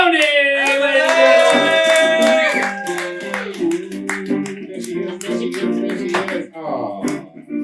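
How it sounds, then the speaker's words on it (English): Scattered hand claps from a late-night talk show audience break out after a long, sliding vocal whoop, the applause uneven and close. "get the round of applause going for Emily Browning."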